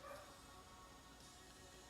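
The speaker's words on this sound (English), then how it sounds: "Can y'all hear my dogs barking?" Faint, distant dog barking under a quiet background hum, with a few short yips near the start.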